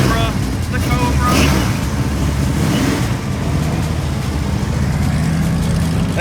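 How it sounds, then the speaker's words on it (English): A Corvette ZR1 with a lumpy, heavily cammed engine idles at a police-hosted car show, a loud, steady low rumble that continues throughout with people talking over it. "This ZR1's camming out too."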